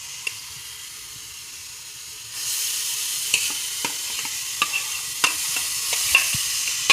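Paneer being stirred into a mango-milk sweet frying in a pan, with a steady sizzle that swells partway through and repeated scraping knocks of the spoon against the pan.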